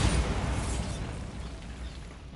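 Bombarda spell blast in the video game Hogwarts Legacy, a deep rumbling explosion already at full force and slowly fading over a couple of seconds, no voices.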